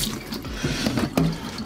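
Tap water runs steadily into a sink as raw chicken wings are rinsed, with splashing and drips close up and no voices.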